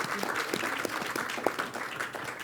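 Audience clapping at the Propelify 2021 BetterWellness Challenge event, a moderate, steady patter of many hands that stays fairly even throughout, with a few sharper individual claps standing out.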